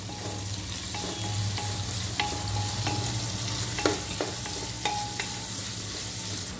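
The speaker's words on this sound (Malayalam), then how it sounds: "നന്നായി ഇളക്കാം കേട്ടോ." Vegetables frying in ghee for biryani, a steady sizzle with repeated sharp scrapes and clinks of a spoon stirring against the pan, close and alone without talk.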